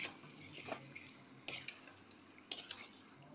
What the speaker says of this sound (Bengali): মশলার সাথে ভালো করে মিশিয়ে নেব